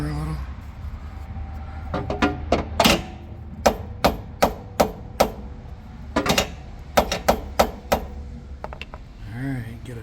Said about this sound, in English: Bang it with the hammer a little.